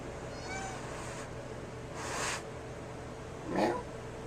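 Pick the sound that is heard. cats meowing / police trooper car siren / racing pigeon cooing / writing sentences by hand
cats meowing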